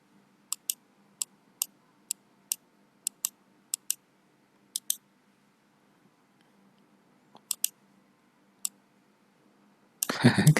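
A computer mouse used for drawing gives sharp, close clicks, often in quick pairs, spaced across several seconds of near silence before a burst of louder noise at the end.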